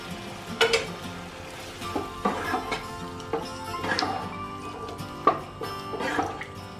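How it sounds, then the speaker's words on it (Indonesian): Water splashes into a hot pan for Medan-style sayur lontong and sets off bursts of sizzling and bubbling, with several sharp spatters and a steady frying hiss underneath, close and fairly loud. "Nah, kemudian kita tuang air. Kita tuang sedikit saja air."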